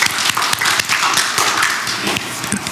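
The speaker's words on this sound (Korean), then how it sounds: "박수 한번 드리겠습니다" Applause from a church audience after a pastor asks the congregation to clap for a class leader, a dense, steady patter of hand claps lasting under three seconds with no talking.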